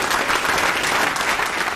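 A thunderous crowd applauds in a multipurpose hall as a presidential couple enters, a brief burst of dense, even clapping with no voices standing out.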